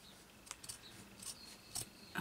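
Scissors snip through the frilly edge of old fabric, five or six short crisp cuts spaced irregularly over a quiet background, close up and fairly faint.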